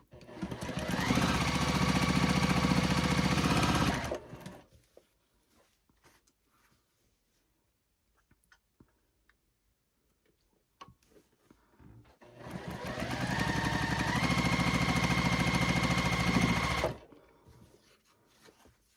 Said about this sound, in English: then we'll sew on the last column, and we'll be done with this block for right now.